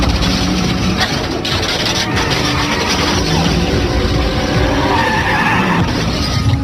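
Car driven fast during a movie chase scene, a loud continuous engine roar with tire noise and skidding that runs steadily throughout at close range.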